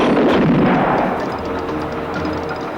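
Gunfire in a scene from the Dawn of the Dead horror film, loud booming shots in quick succession that blur into a heavy rumbling barrage, with no talking.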